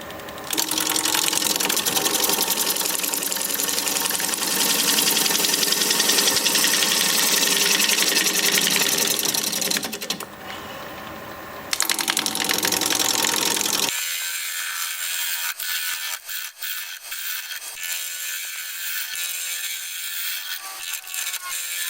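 A wood lathe turns a live edge bowl under a short 5/8-inch bowl gouge, giving a dense, loud continuous cutting roar with a brief change partway through, then a thinner, clattering scrape with intermittent catches.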